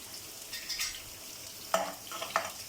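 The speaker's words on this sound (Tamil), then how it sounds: "வெங்காயம் இந்த அளவுக்கு வதங்கினா போதும்" Onions sauté in a frying pan with a soft, constant sizzle, while a spatula stirs them in a couple of brief, sharp scrapes near the end.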